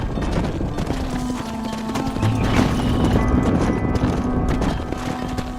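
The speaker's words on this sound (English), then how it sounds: "Hit your horse and wait for me by the stable." Horse hooves clip-clop steadily at a trotting pace in the Red Dead Redemption western game, close and fairly loud over a low ambient hum, with no talk.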